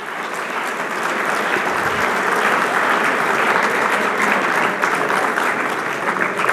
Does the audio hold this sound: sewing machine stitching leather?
no